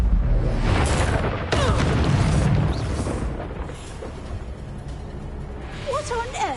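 A fire spell cast in Hogwarts Legacy, a burst of flame whooshing and booming loudly at the start, followed by a rumbling, crackling tail that fades under ongoing game effects, with brief chirping magical sounds near the end.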